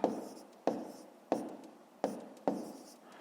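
A math answer is handwritten on paper, with five evenly spaced strokes or taps of the pen, each trailing off in a short scratch, close and moderately quiet.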